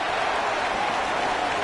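A college football stadium crowd roars and applauds after a punt return, a dense, sustained wash of cheering with no break across the whole stretch.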